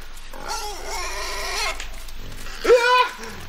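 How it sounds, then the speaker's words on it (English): A pig squealing in the video game Inside: a long wavering squeal, then a shorter sharp one, loud and close over a low ambient background. "pig's still alive. It's a zombie pig!"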